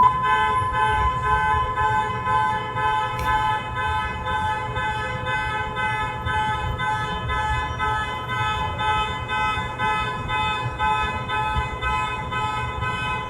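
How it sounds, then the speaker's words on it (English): Emergency vehicle sirens wail steadily and loudly, layered tones holding throughout with traffic and horn-like toots mixed in, no talking. "More sirens."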